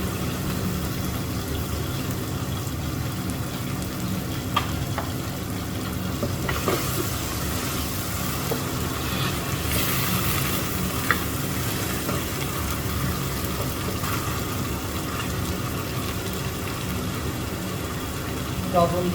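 Ginger garlic paste, two spoonfuls, frying in a pan with a steady broadband sizzle and occasional stirring scrapes throughout, fairly loud and continuous.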